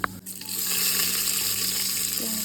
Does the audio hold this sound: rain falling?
no